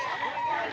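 Chickens and roosters at a busy poultry market let out a brief, muffled clucking call over a steady crowded background.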